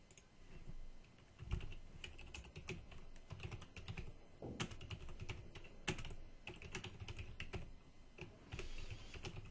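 Computer keyboard typing in a Korean office-automation spreadsheet exercise, with irregular close key taps and occasional heavier strikes over about ten seconds and no voices.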